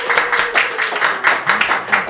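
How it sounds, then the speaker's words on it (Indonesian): An audience claps for a guest on a TV talk show, with steady, fairly loud applause throughout that brief stretch and a voice faintly audible underneath. "kita tepuk tangan dulu buat Tumina nih"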